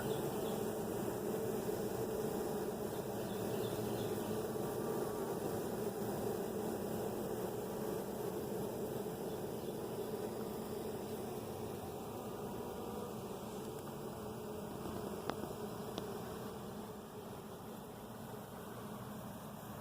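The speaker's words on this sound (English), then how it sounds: "There's some good looking bees." Low, continuous buzzing of a swarm of honey bees being caught, a steady drone with no voices.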